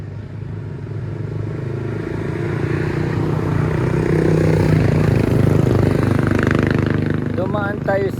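A small carbureted motorcycle engine without fuel injection runs steadily, a close, continuous mid-pitched putter that swells slightly in the middle while someone speaks over it briefly.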